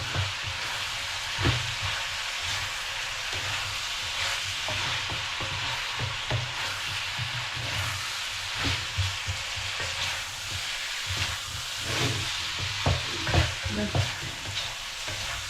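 Cooked carrots and beans tossed into a hot pan with meat give a continuous close sizzle, broken by scraping stir strokes and light clatter.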